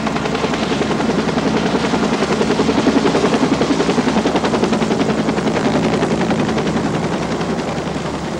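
A medical life flight helicopter's rotor pulses in a loud, steady, rapid thudding drone that fills the scene, constant throughout with no speech.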